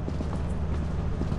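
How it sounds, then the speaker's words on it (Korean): Heavy footsteps in the video game Lethal Company land as dull, evenly spaced thuds beneath a steady wash of background noise. "발소리가 들렸는데?"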